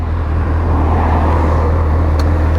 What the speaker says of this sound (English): Let's get to hear the engine note of this CB1000 as we get it up to speed.